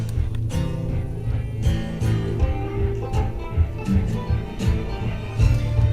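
Drunk-state soundtrack from the Whiskey n' Zombies video game, a continuous loose instrumental piece with strings and plucked notes, steady and full throughout.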